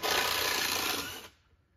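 A power drill backs screws out of wooden deck boards, one loud steady whirring burst for just over a second that cuts off abruptly, leaving near silence.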